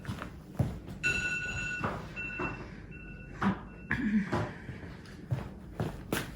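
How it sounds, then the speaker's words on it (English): An alarm clock rings indoors in a short bright electronic ringing burst with steady high tones, then sharper repeated beeps, heard over a quiet room with some rustling and movement. "That was my alarm clock."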